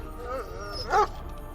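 A dog barks once in the video game Lost Horizon, a short, fairly loud yelp standing out over low background game audio and faint talk.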